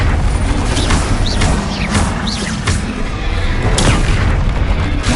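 Rapid, loud spell blasts in the video game Hogwarts Legacy, a dense barrage of booming explosions and crackling impacts in quick succession over a heavy rumbling bed, with shouted voices.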